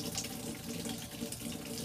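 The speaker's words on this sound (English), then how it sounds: "So my next step is I also flush that piece with cold water." Cold tap water runs in a steady, unbroken stream as it flushes out a glass rig, splashing continuously at close range with no voices.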